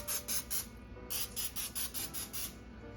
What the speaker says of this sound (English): we're going to spray it on our pans